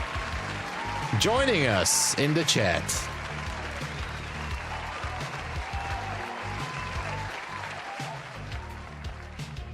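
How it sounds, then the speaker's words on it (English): An applause sound effect plays on a live NQ and gold futures trading stream, a short burst with whooshing chirps early on, then fading under steady talk. "let me give an applause"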